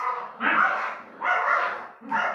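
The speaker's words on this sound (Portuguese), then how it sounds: "Nossos cachorrinhos ali parece que estão lutando por algum osso" Dogs fighting over a bone bark and growl in three harsh, noisy bursts, close and loud, with short gaps between them.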